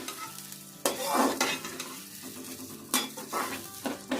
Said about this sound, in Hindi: प्याज को हल्का सा फ्राई करेंगे।